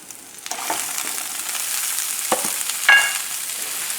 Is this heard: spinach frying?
yes